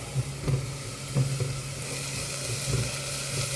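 Onions and curry leaves sizzle and fry steadily in hot oil in a pan, a continuous close crackle with a few soft stirring scrapes, no voices.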